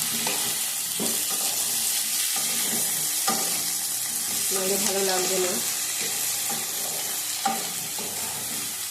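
Eggplant and onion fry and sizzle in a pan while being stirred, with a steady hiss throughout and occasional scraping clatters of the spoon. A voice speaks briefly.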